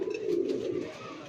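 Pigeons at a village breeder's loft give a low, drawn-out coo, close and clear, over faint background noise.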